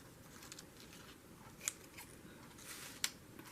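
Scissors trimming a paper journal page, two sharp distinct snips about a second and a half apart over a quiet background hiss.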